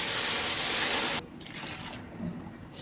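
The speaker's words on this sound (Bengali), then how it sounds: "এবার আমি পানি দিয়ে দিব।" Water pours into a pot of toasted rice and lentils for beef bhuna khichuri, a loud continuous gush that cuts off abruptly, followed by quieter handling sounds.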